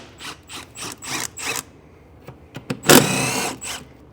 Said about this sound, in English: So the next step is going to be to remove these 2 bolts.